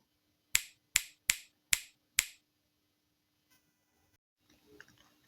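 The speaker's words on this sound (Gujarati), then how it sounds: "જે આપણે હાથેથી ચપટી વગાડીએ એને સ્નાપ ફિંગર્સ કહેવાય" Five crisp finger snaps ring out in an even rhythm, close and sharp, followed by near silence with faint rustling.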